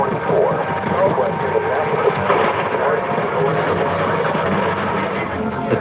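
A tornado's continuous, heavy roar like a passing freight train, dense and unbroken, with wind buffeting the microphone throughout.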